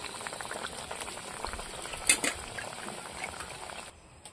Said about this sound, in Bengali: ঝোলটা ফুটে উঠেছে, মাছগুলো দিয়ে দেবো।